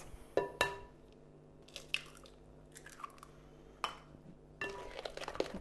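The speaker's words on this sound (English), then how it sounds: "Keep mixing and give that a really good stir." Brownie batter being mixed in a bowl after an egg goes in, with irregular scraping clinks and knocks of the utensil against the bowl, some close and sharp, ending in a longer stretch of brisk stirring.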